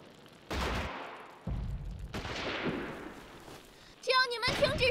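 Bursts of gunfire in a war film about the anti-Japanese resistance: broad noisy blasts come in a few separate volleys, with loud shouting voices breaking in near the end.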